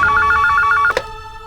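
A telephone rings in rapid, evenly pulsed trills for almost a second, then a click as it is picked up, leaving a faint hum.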